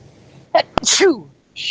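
A single loud human sneeze bursts out close by, followed shortly by a brief voiced exclamation.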